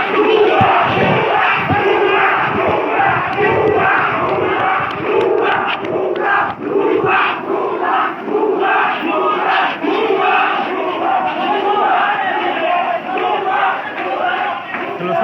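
A protesting crowd at a student demonstration in Nilphamari chants slogans loudly and continuously, many voices rising and falling in rhythmic shouted bursts close by.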